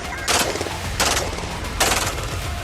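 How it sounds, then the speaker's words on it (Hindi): Three sharp bursts of gunfire from security forces firing on a crowd, evenly spaced less than a second apart, ring out against a noisy background. "सुरक्षा बलों ने भीड़ पर गोलियां चलाई"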